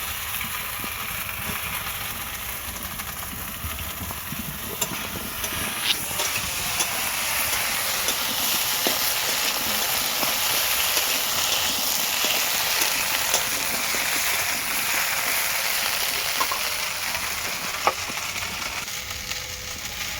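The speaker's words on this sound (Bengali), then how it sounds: "এবার ভেন্ডিটা ওর সাথে ভেজে নেব।" Okra sizzles in a pan with fried potatoes, a steady loud hiss of hot oil with occasional pops and stirring scrapes, continuous throughout.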